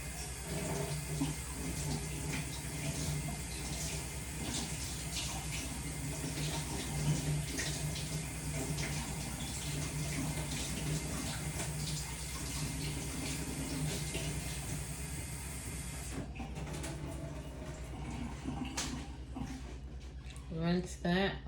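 Cilantro rinsed under a running kitchen tap, a steady, continuous splash of water near and fairly loud that shifts in tone toward the end as the flow changes, with a voice talking over it.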